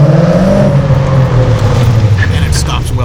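An LS3 V8-swapped Subaru BRZ pulls hard in second gear on a dyno's rollers, its deep engine drone loud and steady throughout, rising slightly in pitch, with a voice talking over it.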